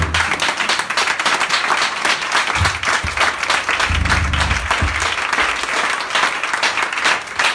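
Church congregation applauding during a Sunday service, a dense continuous roar of clapping from many hands, with brief voices rising underneath.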